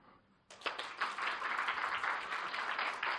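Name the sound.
audience clapping once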